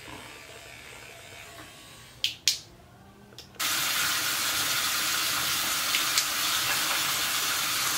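Tap water runs steadily while facial soap is rinsed off the face: a close, broad rushing hiss kicks in after a brief pause and a couple of clicks, then continues evenly to the end.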